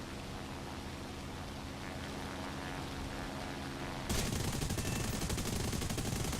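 A Spitfire's aircraft cannon fired in a long burst in the War Thunder video game, a sudden dense rattling roar that starts abruptly partway through over steady engine drone and holds loud and continuous to the end.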